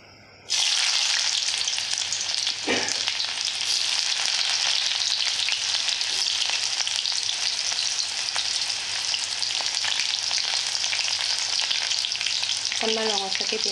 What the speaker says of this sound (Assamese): মই কেৰাহীখন গৰম হোৱা মাত্ৰকে তেল দিলোঁ আৰু এতিয়া ইয়াত পিঁয়াজ দিবলৈ লৈছোঁ